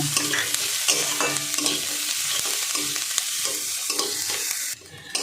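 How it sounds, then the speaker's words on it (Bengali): Chopped capsicum and mixed vegetables are stir-fried in a pan for a Maggi recipe, giving a steady close sizzle broken by repeated scraping strokes of the spatula, which drop off abruptly near the end. "এবার আমি ক্যাপসিকাম কুচিটা দিয়ে দেবো। এটা দিয়েও একটু 2 মিনিট নেড়ে নেব।"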